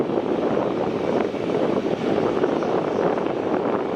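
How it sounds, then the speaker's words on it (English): A China Southern Airbus A350-900 at Melbourne Airport makes a steady, loud, broadband engine roar with wind-like rush, continuous and close, with no voices. "Right now, we are set on the China Southern A350-900 off to Qantas."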